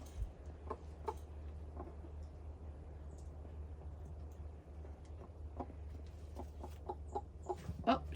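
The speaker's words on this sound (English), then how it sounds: "And there's the chirping." A hen clucks softly and repeatedly while a newly hatched chick gives faint, sharp chirps, all close by over a low steady hum, with the chirps growing more frequent toward the end.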